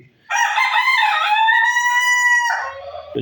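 A rooster crows once, loud and close, one long drawn-out call, followed by a soft low cluck.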